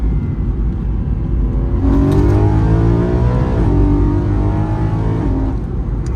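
A car engine revs hard in second gear, its rising pitch climbing steadily then easing off, loud and close, as if heard from inside the cabin.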